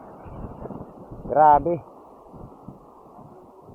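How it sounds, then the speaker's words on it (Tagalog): Strong wind at a seaside fishing spot with big waves buffets the microphone in a low, continuous rumble, and one person briefly exclaims over it partway through. "Ang lakas ng hangin."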